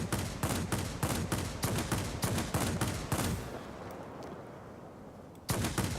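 Aircraft machine guns firing in the video game Tironan's Unfriendly Skies, rapid loud bursts of rattling shots, a pause with fading echo, then firing resumes.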